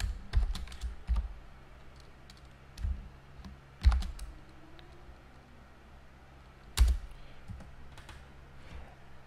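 JavaScript code being typed on a computer keyboard, with a soft steady patter of keystrokes and a few sharper, louder key hits spaced through the stretch, close up and with no voices.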